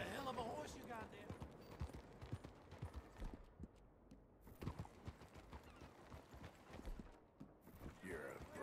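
Horse hooves clip-clop in an irregular walking rhythm, moderately close and fairly quiet, with voices talking over them.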